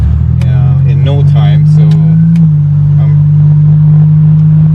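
A Buick GNX engine drones loudly and steadily, dipping briefly in pitch as the transmission shifts gears, while someone talks over it.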